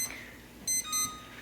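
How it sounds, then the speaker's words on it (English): A kitchen timer alarm set for frying zucchini gives a couple of short, faint electronic beeps in a quiet kitchen, with a steady background hum. "See, there's my timer for the zucchini."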